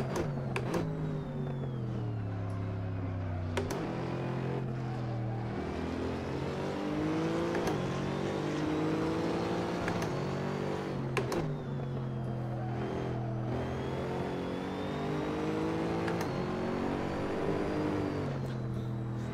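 A GT3 race car in Assetto Corsa at Laguna Seca howls past a BMW, its engine pitch climbing and dropping through repeated upshifts with sharp clicks at each gear change, heard fairly quietly and steadily throughout.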